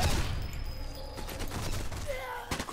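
Sniper rifle headshot in the World War II shooter Sniper Elite 4: a sharp, loud shot right at the start, then muffled game ambience and a second sharp impact near the end.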